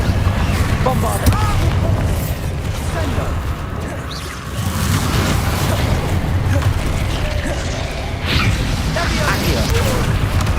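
Spell blasts and explosions from Bombarda and other combat spells in Hogwarts Legacy, a dense, continuous barrage of booms and whooshes layered over constant game noise and music, with a voice speaking throughout.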